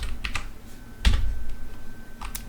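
Keys clatter as code is typed on a computer keyboard during C systems programming, a short run of light, fairly quiet clicks with one sharper strike near the middle, heard alone without talk.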